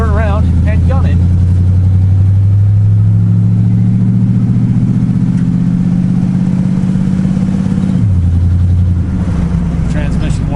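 A car engine revving loudly close by, a rising, sustained roar that climbs in pitch and then drops sharply near the end as it shifts, with a voice speaking briefly over it.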